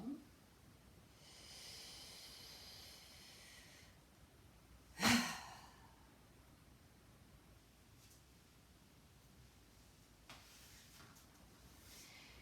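Deep breathing during a stretching exercise: a slow, soft inhale, then one forceful, audible exhale, with quieter breaths trailing off in a calm, quiet room.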